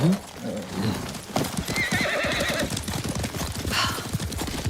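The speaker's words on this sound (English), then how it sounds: "Horse!" Hooves clip-clop at a steady gallop in the video game Ghost of Tsushima while a horse whinnies loudly near the start, with a voice speaking over the rhythmic hoofbeats.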